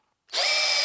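A Hercules cordless screwdriver starts up at speed 2 after a brief silence, its motor rising quickly into a steady, close, high-pitched whine.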